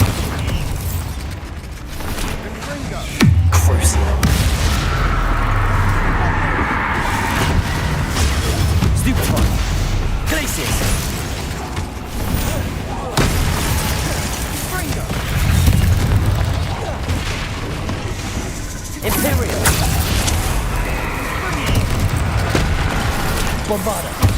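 Repeated booming Bombarda explosion spells in the game Hogwarts Legacy, heavy low blasts and crackling bursts recurring through a dense, loud stretch of combat noise, with a voice talking over parts of it.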